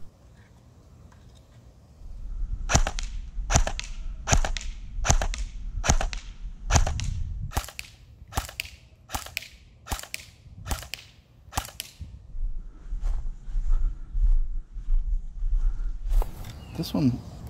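Umarex H&K G36C airsoft guns firing at targets a foot apart, a run of about a dozen sharp, evenly spaced cracks, followed by fainter, quicker shots.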